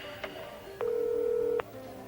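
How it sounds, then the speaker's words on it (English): A telephone number is dialed in a TV show scene: two short tone beeps, then one held tone lasting almost a second, over a faint background hum. "Dialed the number I know best instead of Jamie's office. I dialed my own number."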